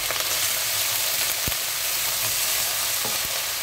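Onion and garlic sauté in hot oil until golden brown, giving a steady bright sizzle with a few soft clinks of a stirring utensil against the pan.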